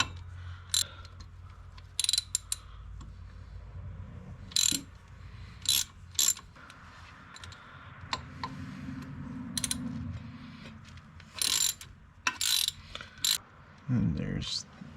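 Ratchet wrench backing out three 8mm bolts on a Ford F-150 integrated wheel end: short bursts of clicking pawl ticks spaced through the clip, close and fairly quiet, with low mechanical rumble between.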